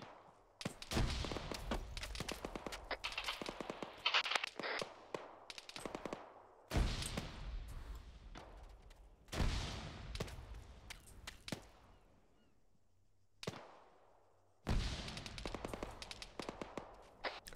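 Bursts of automatic rifle and machine-gun fire in the military shooter ArmA, set on Sahrani during a British patrol, loud, close and sharp, coming in repeated volleys with short gaps between them.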